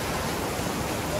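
A waterfall beside a river in the Dibang Valley of Arunachal Pradesh gives a loud, steady, broadband rush of falling water that fills the whole short stretch without a break.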